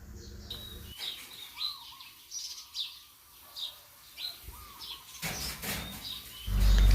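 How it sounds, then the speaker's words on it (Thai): Several bird calls and chirps ring out in a steady series of short bursts, moderately close, ending with a louder rush of noise, heard outdoors beside a house. "ข้างบ้านก็มีเสียงนกร้องเพลงให้ฟังดีเลยนะครับ"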